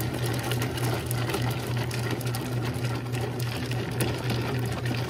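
A bread machine hums with a steady motor drone while dough thumps and churns inside, continuous and close.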